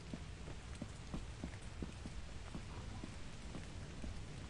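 Steady rain falls in the video game Lethal Company. It makes a faint, even hiss broken by scattered drop-like taps, with no voices.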